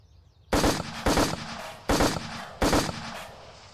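Four loud, sharp gunshot bursts from a VR shooting-range game rifle, evenly spaced after a brief quiet start, each with a short ringing tail and no talking over them.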